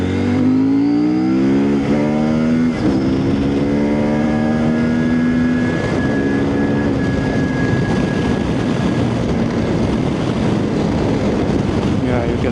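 A 2024 CFMOTO 800MT Sport motorcycle engine rises in pitch under opening throttle while riding, with strong wind noise throughout and a rider talking over it.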